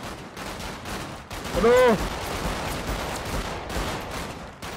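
Gunfire in the video game GTA 5 roleplay, a rapid series of shots under and between shouted talk. A loud tonal burst stands out near the middle.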